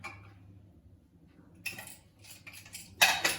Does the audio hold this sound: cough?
no